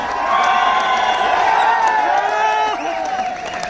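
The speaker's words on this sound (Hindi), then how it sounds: "अपनी जगह पे खड़े होकर उस माँ के लिए तालियां बजा दो" Crowd at a second anniversary event in Jaipur claps and cheers loudly and continuously, with whoops and shouts rising over the applause and overlapping voices, fading slightly near the end.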